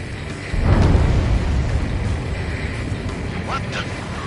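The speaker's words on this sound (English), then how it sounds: "A huge explosion just went off underwater." A huge underwater explosion in the Ace Combat video game sets off a low, rumbling boom that swells abruptly and then lingers as a long, dense roar, with faint chirping sounds near the end.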